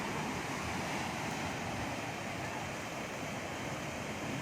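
Big ocean waves break steadily on a shore where a fishing boat comes in, a continuous loud roar of surf with wind noise and no talk.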